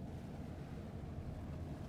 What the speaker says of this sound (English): the sounds of the lapping waves and feeling the swirling currents underneath his feet